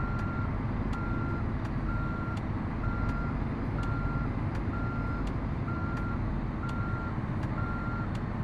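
Reversing beeps from a truck in American Truck Simulator, a steady evenly spaced series of about ten beeps over a constant loud engine drone, with no voices.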